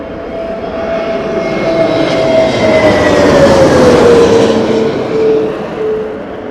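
An airliner landing in gusty crosswind at Heathrow Airport gives a loud, sustained engine roar with a whining tone that slowly drops in pitch as it passes close by.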